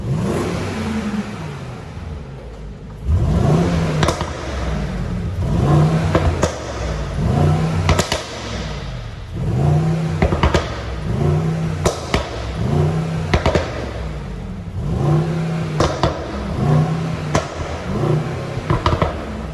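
A 2021 Mercedes-AMG GLE63 S Coupe engine in Sport Plus mode revs repeatedly, each throttle blip rising and falling in a loud, close, rhythmic sequence with crackling bursts between revs.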